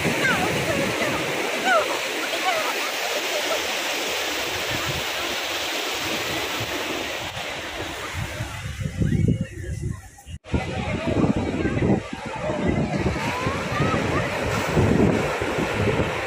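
Waves wash and surge on Valapad beach in the evening with a broad, steady rush, while wind buffets the microphone in loud gusts and briefly drops out.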